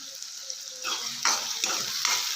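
Green chillies sizzling and frying as they are stirred into a pan of vegetable macaroni pasta, a steady hiss with a few louder crackling bursts and stirring scrapes, no voices.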